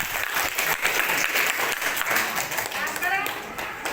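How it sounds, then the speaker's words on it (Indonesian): A classroom group of teachers or students claps in steady applause for several seconds, a dense, close patter with voices mixed in. "Ya, kasih aplaus untuk."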